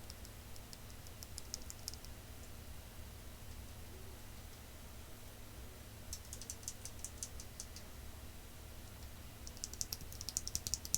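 Stock and lubed mechanical keyboard switches pressed in quick bursts, sharp clicky taps clustered at intervals against a quiet, humming room.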